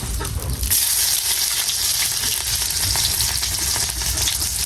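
Onions sizzle loudly in hot oil for a prawn curry, a continuous dense crackle with a brief burst as they hit the pan, close and alone without talk.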